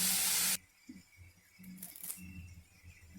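A brief loud spray of sizzling at the start, then faint frying of tomatoes sautéing in a pan with salt, a soft steady hiss with small scraping clinks.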